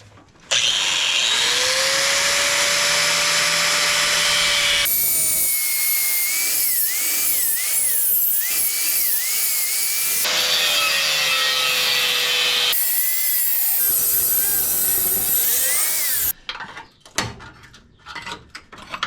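Shock mount being cut off a 1971 Chevelle with a power tool, loud whining cuts in long sustained runs broken by short pauses, ending in scattered clatter.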